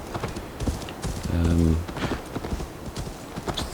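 Horse hooves clip-clopping in Assassin's Creed Valhalla, a quick, steady run of hoof taps with a brief whinny in the middle, while a person talks over it.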